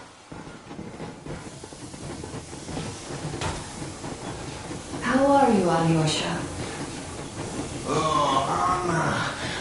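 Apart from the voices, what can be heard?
steam locomotive moving in video game Metro Exodus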